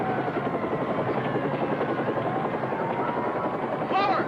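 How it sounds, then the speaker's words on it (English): A Bell helicopter flies overhead in a steady, loud rotor thrum that fills the whole clip, with a brief tonal sweep near the end. "Attention, Bell helicopter. Leave immediately. You're violating restricted airspace."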